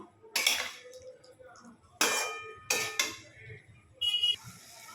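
A spoon stirs a potato and pointed gourd curry with yogurt in a pan over low heat, making four distinct scraping, clinking strokes against the metal, fairly close and alone.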